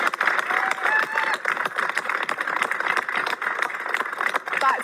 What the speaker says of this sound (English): A round of applause for Kath.